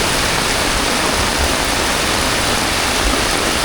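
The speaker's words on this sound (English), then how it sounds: "there's a waterfall down here on the road to where we want to go." Loud, steady rushing water pours down at Athirappilly Waterfalls in Kerala, a dense, continuous roar heard close by with no voices.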